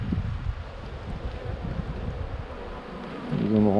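Honeybees buzz in a dense, steady drone close to the microphone, mixed with wind noise, with a louder bee passing near at the very end.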